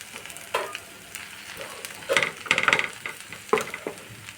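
Cauliflower and peanuts stirred in a hot pan for a vegetarian dish, with a soft scraping, shuffling sizzle and a few louder clinks and scrapes of the spoon against the pan, close by and with no talk.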